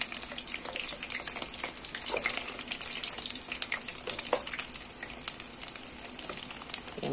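Mortadella fritters frying in hot oil, a steady close crackle and sizzle with scattered sharp pops, running continuously with no talk.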